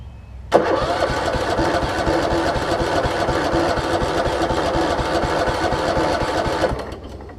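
A Kohler Command engine on a Husqvarna mower, converted to a gravity-fed fuel system, cranks over loudly and steadily for about six seconds with a rapid chugging starter rhythm, then stops without catching.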